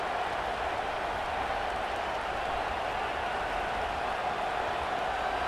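Steady, dense roar of a stadium crowd at a college football game between Texas and Arkansas as a field goal unit heads out, constant and loud with no breaks.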